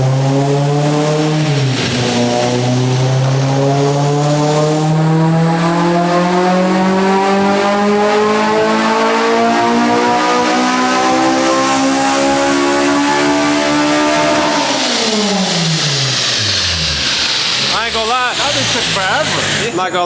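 Honda Civic EK hatchback with a K20A engine on a dyno pull, a loud near engine climbing steadily in pitch for about thirteen seconds, then revs dropping off sharply as the run ends, with talk underneath.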